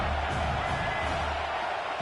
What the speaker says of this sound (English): The crowd is roaring, trying to help this defense on 4th down.